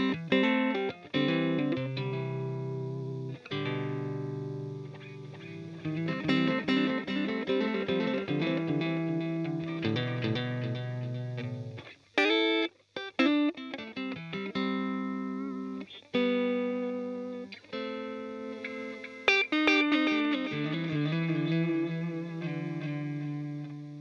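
Delay effect demonstrated in audio mixing: a processed melodic instrument line whose notes repeat as echoing copies, giving a rhythmic, spacious trail under a chorus-like shimmer across a long passage, with no talk.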